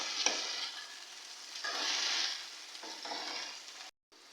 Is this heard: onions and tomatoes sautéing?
yes